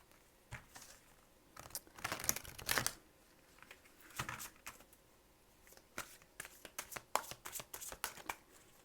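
Tarot cards are shuffled by hand during a reading, giving soft, close riffling and flicking bursts in irregular clusters. The sound is fairly faint and heard alone.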